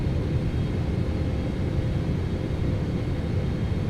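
Airliner engines of a PMDG 777-300ER in a flight simulator game give a steady, loud, low rumbling drone that continues without a break and without talk.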